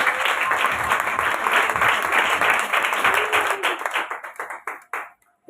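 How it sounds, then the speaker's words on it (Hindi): A church congregation applauding loudly and steadily for several seconds, then the clapping thins into scattered claps and dies away. "स्तुति सिस्टर आप यहाँ पर आइए, उनके लिए ताली बजाए जोरदार जोरदार।"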